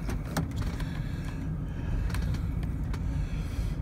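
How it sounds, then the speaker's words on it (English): An old Oldsmobile car gives off a steady low rumble, with a few faint clicks and light rattles over it. The sound is close and fairly quiet, and no one speaks. "look at that old Oldsmobile"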